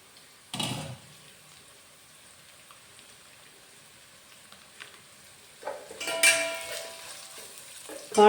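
A curry mixture is sautéed in a pan: a short sizzling burst near the start, a quiet stretch, then louder, busier frying and stirring toward the end.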